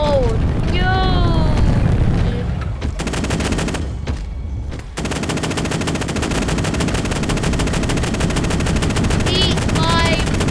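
Sustained heavy gunfire and booming blasts in the Teardown video game, loud and continuous for about ten seconds, with shouting voices breaking through near the start and again near the end.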